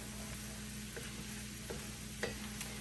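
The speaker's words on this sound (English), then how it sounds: "we're going to let this garlic cook for about 5 minutes" Garlic cooks gently in a pan over low heat, giving a quiet, continuous sizzle with a few faint stirring taps, and no one talking.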